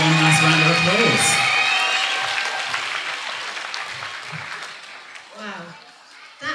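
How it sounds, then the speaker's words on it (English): A final round of audience applause at a school talent show, dense clapping that starts loud and gradually thins and fades over several seconds, with voices emerging near the end. "Let's have one last round of applause."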